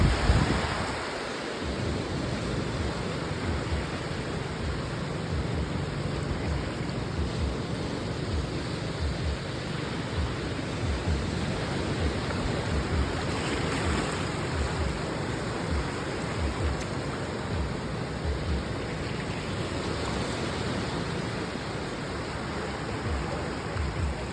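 Ocean surf washing onto a beach at low tide, a steady unbroken roar of waves with wind buffeting the microphone, no voices over it.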